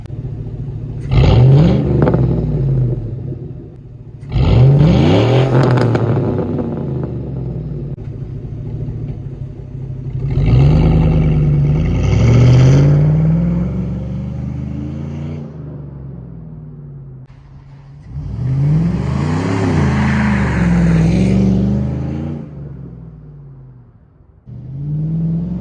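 A 2003 Chevy Silverado 5.3 V8 with an MBRP catback exhaust, revved in four loud, close bursts, each rising to a deep throaty roar and then falling back to a rumbling idle.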